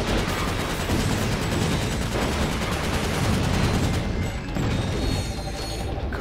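Dense, continuous gunfire and explosions from the video game Ratchet Gladiator blast a path through the level, a loud unbroken barrage of rapid shots and booms with no pauses.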